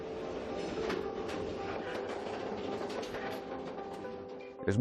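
Train wheels roll on rails with a steady metallic rumble, a sustained ringing squeal and light rhythmic clicks, ending in a louder clunk, with no talk.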